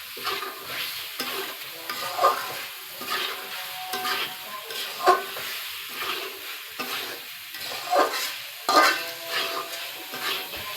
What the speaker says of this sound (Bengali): ডিমগুলো দিয়ে একটু ভালোভাবে নেড়ে চেড়ে মিশিয়ে নেব।